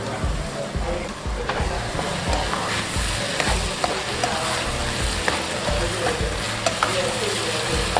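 Onion and tomato fry in a covered pan for an aloo keema dish, a continuous close sizzle with occasional soft stirring taps throughout.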